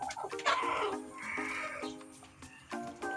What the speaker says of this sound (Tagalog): Ito naman po yung mga native na manok at meron ding naglilimlim.